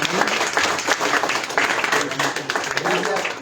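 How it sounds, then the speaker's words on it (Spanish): An audience at a gathering of chroniclers and historians in Santiago Acahualtepec applauds a speaker. The clapping is thick and continuous throughout, with crowd voices mixed into the din. "un aplauso para el maestro Antonio López"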